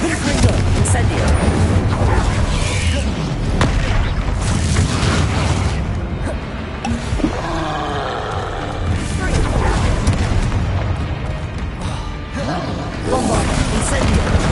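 Bombarda, Confringo and Incendio spell explosions in the video game Hogwarts Legacy form a loud, dense, unbroken wash of booms and crashes, with voices shouting over the din throughout.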